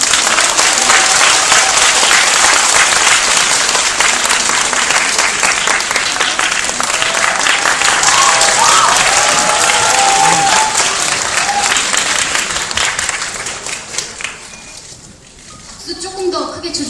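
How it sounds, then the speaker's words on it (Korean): A theatre audience applauds steadily to welcome guests onto the stage at a film greeting event, a dense sustained clapping that thins out near the end. "큰 박수로 맞이해 주시기 바랍니다."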